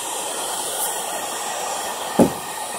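Heat gun running on its high setting close to painted trim, a steady broadband blowing hiss throughout, with one brief sharp knock near the end.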